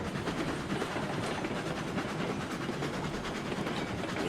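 Train rolling steadily in the RailRoads Online video game, a heavy consist with continuous rumbling wheel noise and faint clickety-clack over the rails, fairly loud and unbroken throughout with no talking.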